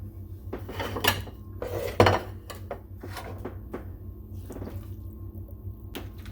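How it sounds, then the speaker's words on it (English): Cooked food is plated onto dishes in a home kitchen before feta is sprinkled on top. Close clinks and scrapes of utensils against plates and a pan come at an even level, with no talking. "Go ahead and plate it up and then sprinkle your feta on top."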